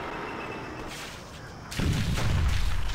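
Rocket fire and explosions in the video game Stubbs the Zombie: a softer rumbling start, then a loud, sustained burst of booming blasts and crackling detonations filling the second half.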